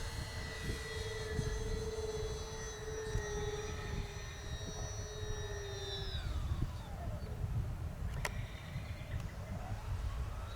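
An Avios Twin Otter twin-engine RC model plane, 1600mm wingspan, whines steadily overhead, pitch sliding downward as it passes, with a faint breeze in the background.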